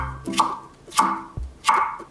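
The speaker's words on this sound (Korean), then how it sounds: "다시 2mm 두께로 채칠게요." Knife julienning vegetables into 2 mm strips for radish wraps: three crisp chopping strokes on a cutting board, each a sharp thwack, spaced about 0.7 seconds apart, close and clear with no talking.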